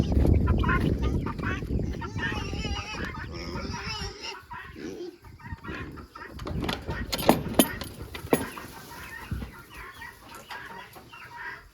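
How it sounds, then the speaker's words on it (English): Guinea hens calling in a farmyard with other poultry, a mix of raspy clucking cries and chatter, moderately near, with a person talking intermittently over the birds. "There's a bunch of guinea hens."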